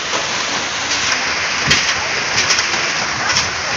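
Heavy rain pours down steadily outdoors, a loud, dense hiss of drops hitting surfaces with occasional louder splatters, unbroken from start to finish.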